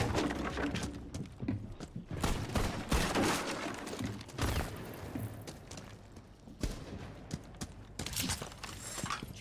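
Rapid bursts of gunfire in Rainbow Six Siege, shooting out windows, with clustered cracks and debris clatter coming in irregular volleys, moderately loud and close, with footsteps and scuffling between bursts.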